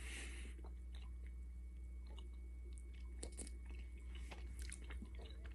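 Bazooka Joe bubble gum being chewed close to the mouth, faint soft wet smacks and squishy bites in an irregular rhythm over a low steady background hum.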